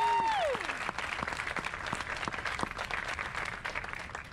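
A room full of people at a teacher awards ceremony claps steadily and loudly for nominees, with a brief whistle-like tone sliding down at the start.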